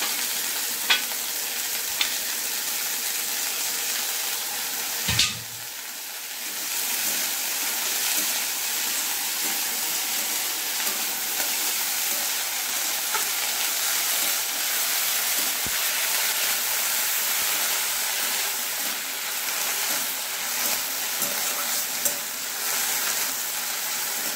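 Chopped jute leaves (pat shak) hit a hot frying pan with a loud hiss, then keep sizzling steadily and evenly while being stirred, close and continuous with no talk.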